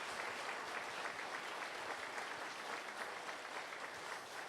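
Steady, dense applause from a church congregation during a Sunday morning Easter worship service, sustained evenly throughout without any voices on top.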